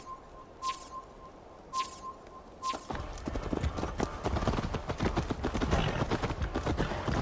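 Horse hooves clip-clop steadily on the ground in the video game Assassin's Creed Valhalla during a race, a dense rhythmic patter that starts after a few bright chiming tones and continues close and fairly loud.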